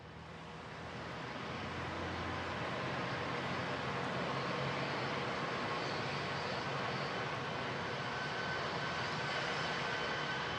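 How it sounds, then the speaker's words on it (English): A NASA plane taxis on the runway at Ellington in Houston, its jet engines giving a steady, broad roar that swells slightly at the start and then holds at a distance. "But Scott Kelly in the NASA plane taxiing on the runway now down at Ellington in Houston."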